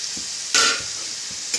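Tomatoes tossed onto sizzling onions for a chicken gravy, a close steady fry hiss with a sharp burst as they land and soft stirring scrapes.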